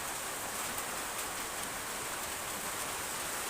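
Heavy rain pours down in a steady, dense hiss with no breaks, loud and close, with no one speaking.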